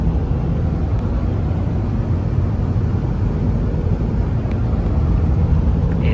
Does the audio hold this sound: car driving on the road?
yes